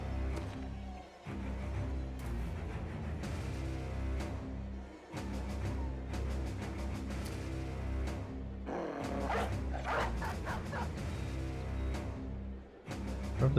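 A dog barks in a video game, with repeated yips and bow-wows at moderate distance over constant game ambience and music, brief clatters scattered throughout.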